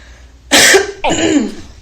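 A woman coughs twice, close and loud, the second cough rougher and longer, with no talking.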